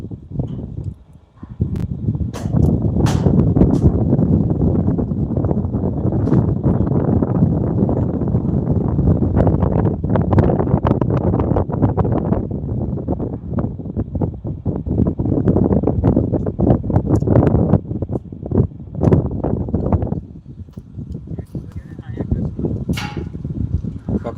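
Strong wind roars steadily at a wind farm in Gujarat, a dense, continuous rushing buffeting the microphone for the whole stretch, with occasional sharper gusts and clicks.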